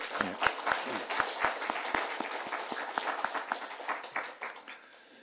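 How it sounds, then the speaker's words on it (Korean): Applause from a church congregation during a Korean worship service, a dense wash of clapping with a few sharp individual claps, steady then tapering off toward the end. "이렇게 응원의 박수, 그리고 하나님께 영광의 박수."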